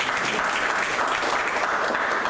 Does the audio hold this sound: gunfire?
no